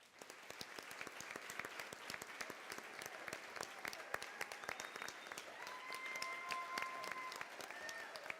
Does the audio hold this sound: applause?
yes